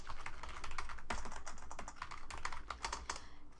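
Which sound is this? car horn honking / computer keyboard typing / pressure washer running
computer keyboard typing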